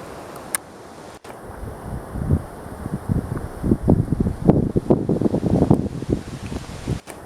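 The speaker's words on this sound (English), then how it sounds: "Getting wind gusts like crazy over here right now." Strong wind gusts during a thunderstorm buffet the microphone in rising, uneven bursts, growing louder and more turbulent toward the end, with a couple of sharp clicks.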